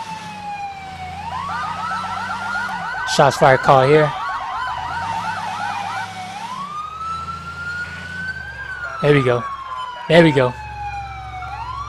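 A police car siren from the LCPDFR police game wails continuously, sweeping up and down in pitch over an engine drone, while someone talks over it in two short bursts.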